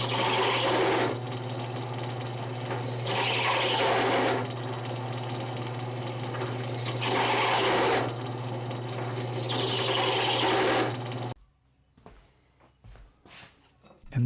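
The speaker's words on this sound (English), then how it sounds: "now I am putting all the countersinks in for those screw heads" A countersink bit cuts screw holes in a stainless steel miter plane body, giving a loud grinding, rasping drone that swells in several repeated passes over a steady motor hum, then stops abruptly.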